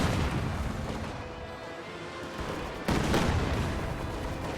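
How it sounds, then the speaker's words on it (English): A Katyusha rocket artillery barrage pounds the centre of the map in a real-time strategy battle game, heard as a dense, fairly quiet rumble of overlapping blasts that swells again toward the end. "Katyusha is bombarding here in the center"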